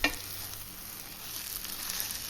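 Thick dough for Chettinad uppu seedai is stirred and turned in a hot pan, giving a soft continuous sizzling scrape close by with no voices.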